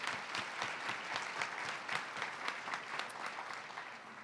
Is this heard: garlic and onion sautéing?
no